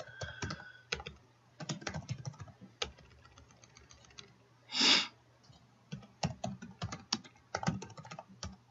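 Computer keyboard typing in an otherwise quiet room, a steady run of close clicks in short bursts with brief pauses and one louder rustle in the middle.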